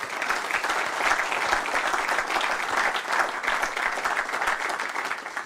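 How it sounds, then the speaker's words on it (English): An audience at a spring banking forum applauds panelists with dense, sustained clapping from many hands, loud and even from start to finish, with no pauses. "Let's give our panelists another round of applause."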